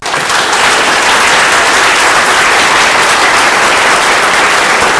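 Dense, sustained audience applause fills a hall after a talk on emotion, healing and spirituality, loud and continuous for about five seconds with no voices standing out.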